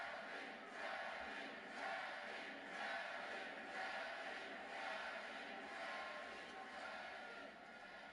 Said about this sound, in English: United States of America cheering for a Canadian.